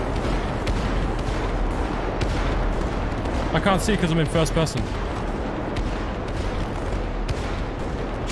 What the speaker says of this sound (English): Just fireworks everywhere.